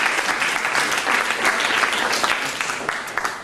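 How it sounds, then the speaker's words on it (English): A conference audience applauds a volunteer coming up on stage, a dense burst of clapping from a large crowd that stays steady for a few seconds, with a voice faintly audible under it. "Let's give her a round of applause,"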